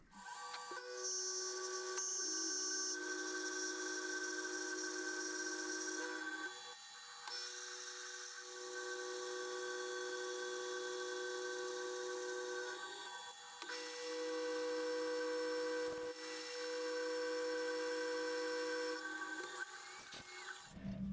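A metal lathe with a sharp carbide cutter turning a part in a workshop: a steady, fairly quiet whining cut that holds for several seconds, breaks off briefly a few times, then resumes.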